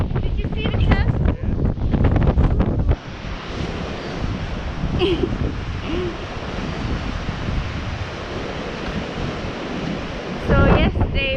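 Sea waves at Cadiz rush and wash continuously around a sailing boat, with strong wind buffeting the microphone, loud and close, while people talk briefly at the start and end.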